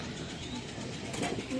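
High-flying pigeons, including kajla and silver birds, coo softly at a seller's loft against a steady low murmur, a voice faintly present in the background.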